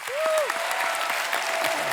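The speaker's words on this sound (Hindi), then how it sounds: "खैर पूरी कास्ट के लिए एक बार जोरदार ताली" A studio audience at a comedy TV show applauds the cast with a dense, loud, continuous wash of clapping lasting a couple of seconds, a brief whistle-like tone rising near the start.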